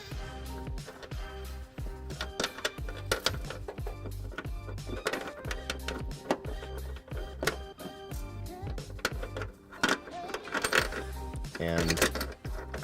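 Short 1.25-inch carriage bolts are fed up into the frame of a 2019 Kia Optima during a trailer hitch install, giving repeated close metallic clinks and rattles with ringing tones, fairly steady throughout and without speech.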